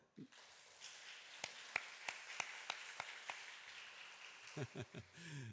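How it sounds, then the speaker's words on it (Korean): Sparse clapping rises from a small church congregation during a Korean Sunday service: about ten distinct, evenly spaced claps in a quiet room, followed by a few soft voices at the end. "우리 한번 박수 하실까요?"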